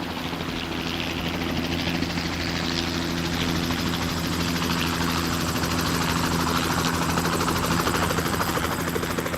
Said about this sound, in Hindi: हेलीकॉप्टर भी थोड़ा सा नीचे आ चुका था, जिससे पूरी तरफ बहुत ज़्यादा आंधी हवा चल रही थी।